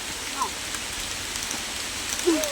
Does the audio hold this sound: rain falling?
yes